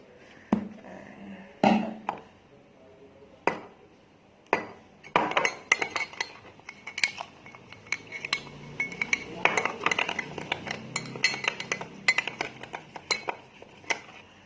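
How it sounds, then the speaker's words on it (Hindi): Spoon clinking against a glass while stirring water, garam masala, black pepper and syrup together, with scattered sharp taps and a busier run of scraping clinks in the middle, close and fairly quiet. "ऐसे अच्छी तरह मिक्स कर दिया।"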